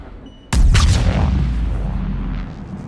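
A single heavy gunshot blast in Mass Effect Legendary Edition cracks out sharply after a quiet moment, then a deep rumbling echo lingers and slowly fades.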